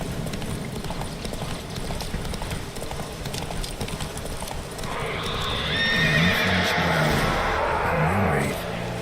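Roach, a horse in a video game, neighs and whinnies loudly in the latter half, over steady clip-clop of hooves and a constant ambient bed, with a brief voice nearby.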